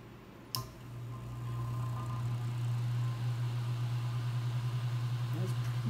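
Electric motor on a Marvin unit running up to speed, a steady low hum that rises after a sharp start click and settles into a sustained, slightly pulsing drone.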